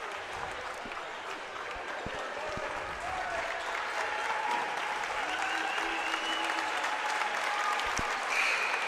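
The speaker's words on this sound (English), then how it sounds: "Home crowd giving the Panthers some appreciation there as they switch in." A home crowd at a high school boys' basketball game in a gym applauds in a steady, sustained wash of clapping, with faint talk underneath.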